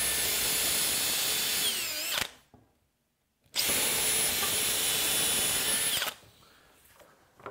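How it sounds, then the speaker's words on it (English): Power drill pre-drilling pilot holes in wood for a cornhole board, two loud sustained whirring runs of a couple of seconds each separated by a brief silence, close to the microphone. "This time I'm going to pre-drill because now I've learned my lesson."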